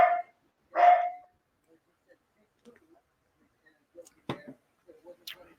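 A dog barks twice in short bursts nearby, with faint scattered household noises following.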